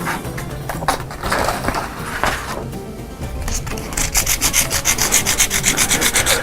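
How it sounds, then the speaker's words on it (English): Sandpaper rubbing over Magic Sculpt epoxy putty on a sculpted elephant tusk built over aluminum wire. Scratchy strokes run throughout and settle into a fast, steady back-and-forth rhythm in the final seconds. "what I'm going to do here, I'm going to sand it"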